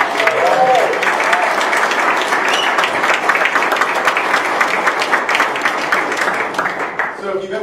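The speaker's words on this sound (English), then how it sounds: "One more round of applause for" Loud, sustained audience applause at a fintech accelerator cohort announcement, a thick wash of many hands clapping for several seconds, with speech briefly over it near the start before it tapers at the end.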